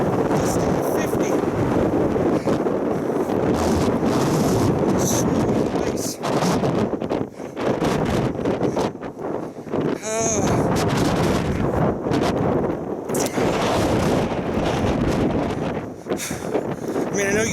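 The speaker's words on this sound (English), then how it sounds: "I want to experience 40-kilometer wind gusting to 50." Strong gusting blizzard wind in the Netherlands buffets the microphone with a loud, continuous roar that swells and dips throughout.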